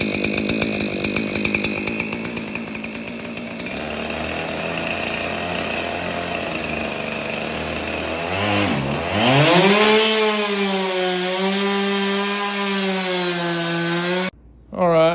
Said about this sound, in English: Weapon of choice, Husqvarna 576 with a 28-inch bar.